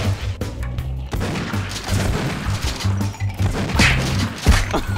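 Rapid bursts of gunfire and crashing impacts fill a dense, loud battle scene with constant rumbling booms throughout, in the video game Afraid of Monsters.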